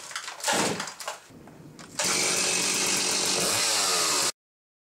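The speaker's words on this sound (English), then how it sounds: "this is how you should start your chainsaw" Chainsaw started with a pull cord, a few rough pulls and sputters before the engine catches and runs at a loud, steady high roar that cuts off abruptly.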